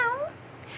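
A voice imitating a cat's meow, one short rising-falling mew up close, followed by quiet room tone.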